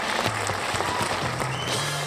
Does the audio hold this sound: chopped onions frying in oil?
no